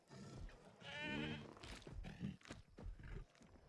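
Goats bleating in the dinosaur park-building game Jurassic World Evolution 2, several wavering, quavering cries in a row, fairly close and loud, mixed with other game sounds and brief talk.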